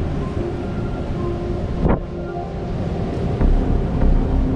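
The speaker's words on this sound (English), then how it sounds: "I'm heading right now up to the Juno Pier, um, and there's some pretty big waves." Big hurricane storm surge waves from Hurricane Nicole pound near Juno Pier, a continuous low rumbling roar with a sharp crash or gust about two seconds in and swelling surges toward the end.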